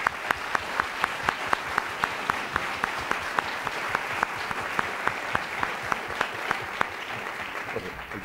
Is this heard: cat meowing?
no